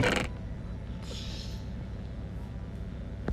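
A chest opens in Minecraft: a short burst of sound, then a soft creak a moment later, fairly quiet over a low steady background.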